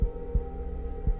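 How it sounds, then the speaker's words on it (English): A heartbeat sound effect gives three deep, muffled thumps at an uneven spacing over a steady low hum. "Just the sound of her own heartbeat."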